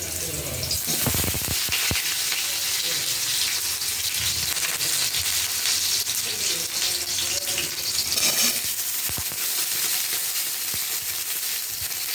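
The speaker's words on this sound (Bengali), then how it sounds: "এবার এর মধ্যে আমি কিছুটা আলু ভেজে নেব।" Potatoes fry in a pan with a loud, continuous hiss that almost sounds like running water, a few sharp knocks cutting through near the start and again around the middle.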